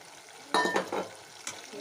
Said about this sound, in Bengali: ভালো করে মশলাটাকে কষে নেবে যাতে কাঁচা মশলার গন্ধ না বেরোয়।